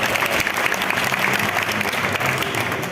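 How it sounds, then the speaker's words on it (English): An audience at a guitar clinic in Jakarta claps and cheers in a dense, sustained burst of applause that is loud and continuous from start to finish. "can we give one more round of applause for High-End Guitars and"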